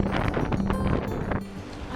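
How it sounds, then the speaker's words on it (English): Strong wind buffeting the microphone on a windy mountain top during a sailing trip, a loud, rough, continuous rumble that eases slightly toward the end. "It's very windy up the top. It's very windy."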